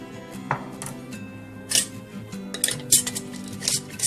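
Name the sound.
screwing the lid and ring onto a pickle jar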